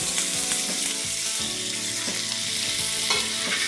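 Ivy gourd (tondli) slices frying with curry leaves in a pan give a steady, close sizzle with scraping stirs throughout, no voices.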